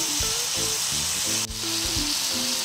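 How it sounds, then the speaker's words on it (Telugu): Bottle gourd pieces frying in oil in a pan, a steady close sizzle with occasional stirring scrapes and clicks. "అదే నూనెలో ఇప్పుడు సొరకాయ ముక్కలు వేసుకోవాలి."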